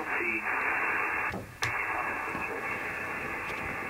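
Steady hiss of HF radio static on a ham stick antenna fills the clip, broad and constant, with a brief dip and a sharp click near the middle.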